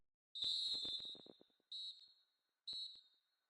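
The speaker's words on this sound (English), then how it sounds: "goes the half-time whistle" A referee's half-time whistle in a football video game sounds as three shrill blasts: a long trilling first blast followed by two short sharp ones, loud and clear with no talk over them.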